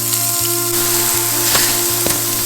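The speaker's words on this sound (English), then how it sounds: "I'm gonna flip these little shrimp over" Shrimp sizzling loudly in a hot frying pan, a constant close hiss with a low rhythmic hum and occasional sharp pops and crackles.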